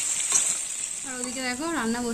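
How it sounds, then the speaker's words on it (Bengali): Potatoes for a meat curry fry in oil in a pan with a steady bright sizzle throughout, while a voice talks over the second half. "মাংসের আলুটা ভাজা হচ্ছে"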